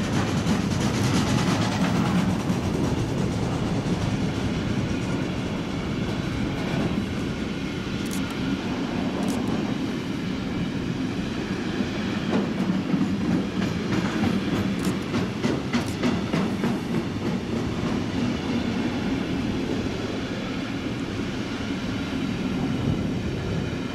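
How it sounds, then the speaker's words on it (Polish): An IC passenger train led by a class 101 locomotive rolls past on tracks along the Rhine, a loud sustained rumble with rhythmic wheel clatter that swells in the middle and carries on throughout. "a z drugiej strony pociąg IC"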